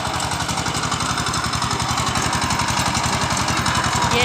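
A small tractor ploughing a field in the hills runs with a steady, loud, rapid engine chug that holds an even pulse throughout, close by.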